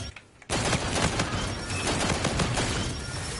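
Rapid gunfire from the legendary G-Rail gun in a video game, a loud, dense burst of fast shots that starts suddenly and keeps firing continuously to the end.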